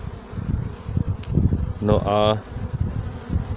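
Honey bees buzz around an open hive during a beekeeper's treatment against Nosema, a close, rising drone swelling briefly over a steady background hum while someone talks nearby.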